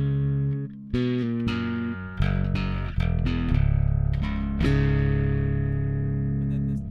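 Electric bass run through a Neural DSP Darkglass B7K Ultra distortion plugin, playing a short series of separate distorted notes with gritty, ringing sustain that decays between attacks.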